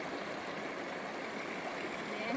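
The Kootenai River flows past, a steady broadband rush of moving water heard from the bank, continuous and even, with no talking.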